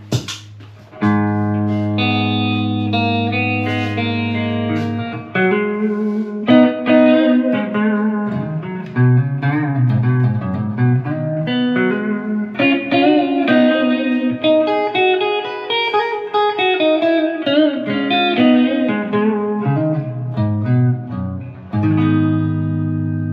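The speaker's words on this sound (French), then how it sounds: "je vais mettre un peu de reverb maintenant" A clean electric guitar through an MLC Subzero 100 amplifier plays a slow melodic line with chords, notes ringing out and trailing into a spacious reverb tail, no voices.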